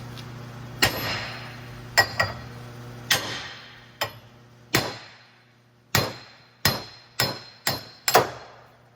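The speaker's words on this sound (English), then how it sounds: "just pretty much hammer away" Heavy metal-on-metal hammer strikes knocking out a front wheel hub of a 9th-generation Honda Civic, about a dozen irregularly spaced blows with ringing decay, close up over a low steady hum.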